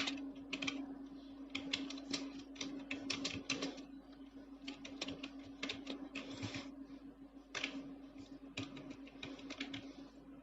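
Quiet, close clattering of a computer keyboard as HTML code is typed, in quick uneven bursts of keystrokes with short pauses over a steady low hum.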